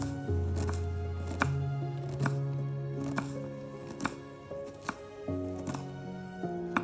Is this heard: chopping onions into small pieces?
yes